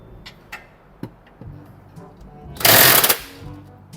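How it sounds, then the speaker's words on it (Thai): An impact wrench fitted with an Ironman socket hammers loose a very tight lower control arm bolt on a Dmax pickup, one loud rattling burst of about half a second after several scattered ticks and clicks. "ถอดก้ต่อออก แน่นแค่ไหนบล็อกไอแมนก็เอาอยู่นะครับ"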